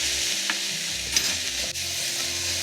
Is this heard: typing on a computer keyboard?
no